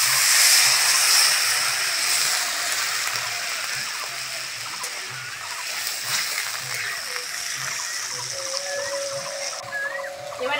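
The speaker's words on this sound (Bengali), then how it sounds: "এইবার জল দিয়ে দেবো।" Water poured into a hot pan of fried garlic and onion for a fish curry with potatoes, giving a steady sizzling hiss and splash throughout while a person talks.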